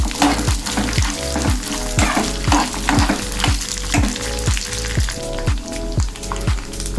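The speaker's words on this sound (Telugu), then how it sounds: "ఇప్పుడు అన్నీ కలిపి చక్కగా ఫ్రై చేసుకోవాలి" Peanuts and green chillies fried in oil for groundnut chutney, with a loud, close crackling sizzle and a regular rhythm of spoon strokes against the pan, about two each second.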